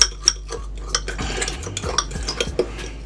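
A spoon stirring a thick spread with a dash of cayenne pepper in a bowl, quick close repeated scraping and clinking strokes in an uneven rhythm, no talking.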